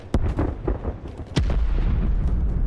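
Sniper rifle fire in Call of Duty Cold War booms close and loud, a few heavy cracks in quick succession followed by a deep rolling rumble, with no talking.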